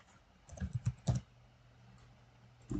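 Typing on a computer keyboard comes through as a quick, soft burst of key clicks close by, followed by quiet and one final keystroke.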